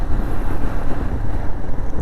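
Hot wind rushing past a moving motorbike in Dharmapuri town, a loud, constant buffeting roar mixed with low engine rumble, steady for the whole stretch with no talking.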